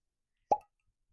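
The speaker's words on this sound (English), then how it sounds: "I literally was struggling to get this cork popped" A cork pulled from a bottle of Penelope Wheated bourbon gives one short, clean, hollow pop, close and isolated in otherwise silent surroundings.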